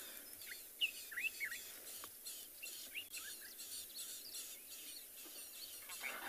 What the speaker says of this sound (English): Listen to all those little birds calling